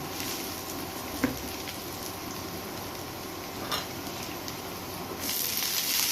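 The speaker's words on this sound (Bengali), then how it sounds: "পেঁয়াজ রসুনটা যখন একটু হালকা বাদামি বাদামি করে ভাজা হয়ে যাবে তখন আমি এর মধ্যে শাকটাকে দিয়ে দিব" Nonta shak greens frying in a pan with garlic and onion give a steady, soft sizzle with a few clicks of stirring, and the hiss swells louder near the end.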